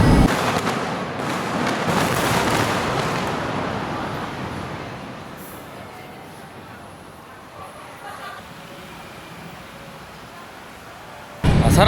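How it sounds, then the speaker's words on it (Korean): Festival fireworks in Bangkok, heard from a crowded bridge as a dense, distant crackling rumble that gradually fades, mixed with crowd noise and a voice speaking. "뭐 불꽃 축제 하나 보다."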